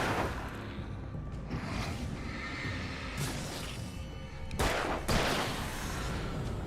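Gunfire in Alan Wake, bursts of shots cracking against a noisy game soundscape, with a couple of louder broadband blasts near the middle and end.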